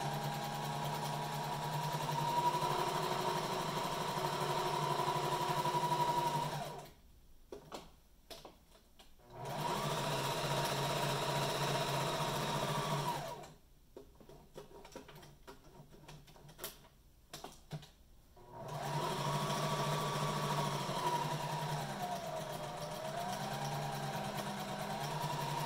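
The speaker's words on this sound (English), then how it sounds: "I'm just going to stitch all the way around the sides and the bottom." A sewing machine stitches around the sides and bottom of a layered fabric duckbill mask, running in three steady whirring bursts separated by two quiet pauses.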